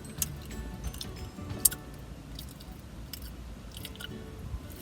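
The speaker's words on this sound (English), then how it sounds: "Sometimes I just chew to see how loud I can get." Loud, wet chewing of food inside a car, with repeated squishy bites and crunches close to the mic, one sharper crunch standing out, and no talking.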